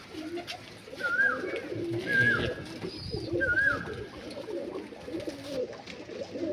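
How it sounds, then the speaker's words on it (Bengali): Malwai pigeons kept in a home loft coo in a few soft, rolling calls repeated close by, with light rustling and faint chirps between them. "পায়রাগুলো টোটালি মালবাহী পায়রা আছে"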